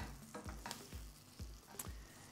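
Onions sautéing in a little oil and stirred with a wooden spoon: a soft, continuous sizzle broken by regular scraping strokes roughly every half second, close and quiet.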